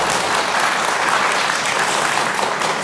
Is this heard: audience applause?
yes